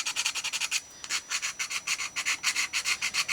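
A small file rubs rapidly back and forth across a miniature Christmas craft piece, giving close, rhythmic raspy strokes in quick even bursts with a brief pause near the start.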